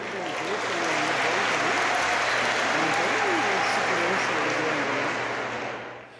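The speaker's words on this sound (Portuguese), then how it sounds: "Vamos receber com uma salva de palmas," A large audience at a happiness congress gives sustained, even applause that swells and holds strong, with a voice faintly audible beneath the clapping before it tapers off at the end.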